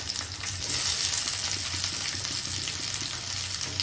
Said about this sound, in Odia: ଓହୋ ତେଲରେ ପିଆଜ କ୍ୟାପ୍ସିକମ୍ ପଡ଼ିଗଲା